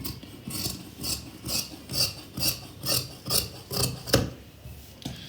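Shirt fabric being cut, heard as a steady series of about ten evenly spaced rasping strokes, close and fairly loud, with no talking over them.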